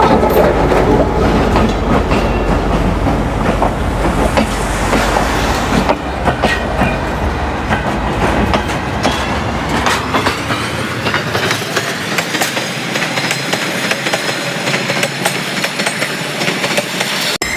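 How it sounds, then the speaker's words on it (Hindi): Mohenjo-daro Express passenger train in rural Sindh, Pakistan, arriving and rolling past close by, a loud sustained rumble of wheels with rhythmic clickety-clack and rattling carriages throughout. "अभी हमारी ट्रेन आ गई है"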